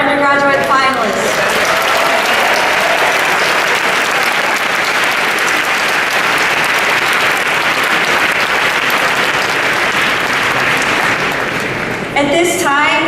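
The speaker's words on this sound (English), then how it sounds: "let's give another round of applause for all of our undergraduate finalists" Audience at an undergraduate finalist presentation event giving sustained, dense applause for about eleven seconds, with brief speech at the start and end.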